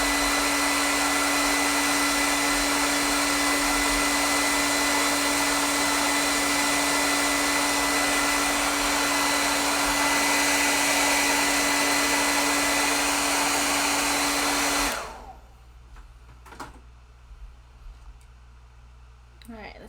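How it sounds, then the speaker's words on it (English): Hair dryer blowing on wet acrylic paint, a loud steady whoosh with a constant hum that runs for about fifteen seconds, then cuts off abruptly, leaving quiet room sounds and small taps. "I'm gonna blow dry this real quick"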